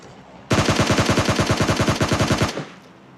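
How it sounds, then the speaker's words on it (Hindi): Automatic gunfire in the PUBG video game rips out as one sustained burst of about twenty rapid, evenly spaced shots lasting two seconds, loud and close, then cuts off abruptly. "यार मैं पूरी गोली चलाता हूँ"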